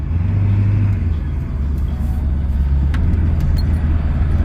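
Ford truck with a 7.3 IDI diesel pulling away in drive, a loud, steady low rumble throughout that builds slightly, with faint voices underneath.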